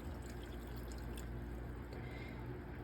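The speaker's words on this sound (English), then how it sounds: "So now I'm going to go over to the sink and get a jar full of water, and we're just going to dump that in there." Water from a jar pours into a pan of beans, a steady liquid splash and trickle running throughout at moderate distance, with a faint hum in the background.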